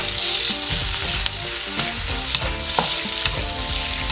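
Onion and garlic sautéing in a pan for chicken pastel, a loud close continuous sizzle with occasional stirring scrapes and clinks, no voices.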